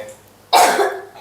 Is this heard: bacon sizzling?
no